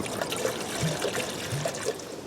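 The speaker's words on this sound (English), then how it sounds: "we'll get some water in, we'll get it boiled up" Water trickles and splashes into a pot for a Fire Maple Mars Radiant camping stove during moorland wild camping, a close, continuous pour with no talking.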